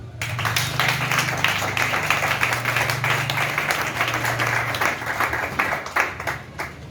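Church congregation clapping together in praise, a dense, continuous patter of applause with a low hum of voices beneath it.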